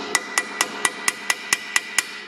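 Nine sharp metallic hammer strikes land in a steady, even rhythm, close and ringing, with no voices, knocking a part into a rear shock absorber joint on a VW Golf GTI.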